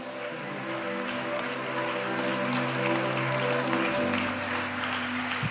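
A church congregation applauds in a sustained, dense wash of clapping during a celebration service, with a low organ or keyboard drone sounding beneath it.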